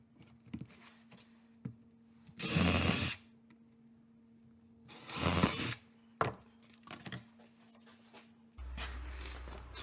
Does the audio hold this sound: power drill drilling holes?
yes